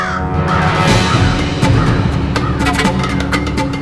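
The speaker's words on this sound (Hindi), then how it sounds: "ये कौवा कब से काय काय किए जा रहा है।" A crow caws several times in a household setting, the calls rising over a dense bed of background music that stays loud throughout.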